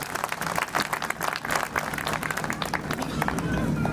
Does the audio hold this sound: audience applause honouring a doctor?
yes